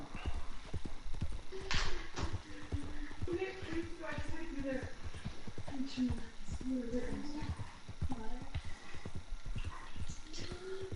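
Steady clip-clop of horse hooves trotting with an occasional whinny in Red Dead Redemption 2, under continuous conversation between people.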